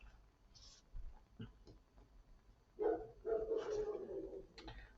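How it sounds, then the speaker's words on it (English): A neighbour's dog barks across the road, a few sharp, moderately distant barks in short bursts over a quiet indoor background. "The dog across the road's going,"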